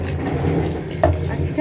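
Water is poured from a tap into a bowl of large-grain sago left to soak, a steady close splashing stream with a brief brighter gush partway through.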